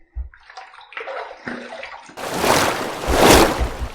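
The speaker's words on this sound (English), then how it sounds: "let's rinse." Water runs for rinsing during a wet shave with a safety razor: a few light clinks and handling knocks come first, then a loud, steady gush of running tap water fills the rest.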